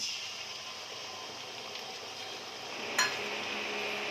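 Dark chilli sauce mixed with tomato sauce goes into a pan of frying chicken, giving a steady, moderate sizzle throughout, with one sharp utensil clink against the pan near the end and no talk.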